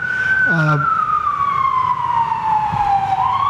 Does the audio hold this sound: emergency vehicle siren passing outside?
yes